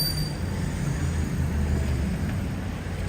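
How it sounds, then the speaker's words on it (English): Train rumble drifts up from a Paris subway entrance, a steady low roar of rolling carriages and wheels heard at a distance, continuous and unbroken throughout. "That's entrance to subway."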